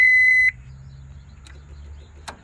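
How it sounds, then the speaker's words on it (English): A car's warning buzzer, distorted by a battery too low to crank, sounds a high, steady electronic tone pulsing for about half a second, then cuts off, leaving low background noise and a couple of faint clicks. "that's not how the buzzer normally sounds"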